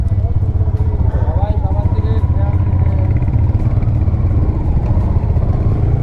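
Several motorbikes, one of a group of five setting off on a long ride from Kolkata toward North Sikkim, give a loud, steady engine rumble close by. Faint voices sit under the engine noise throughout.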